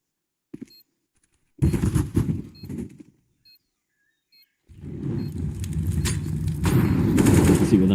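Rapid automatic gunfire in a Counter-Strike match, short clattering bursts after a quiet pause, then a sustained louder stretch of fire to the end, close and sharp.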